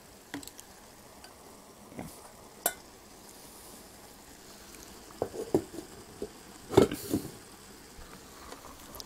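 Minced beef and mixed beans sizzle softly in a frying pan, with a low continuous fry broken by several sharp scrapes and clacks as the mixture is stirred, faint and close.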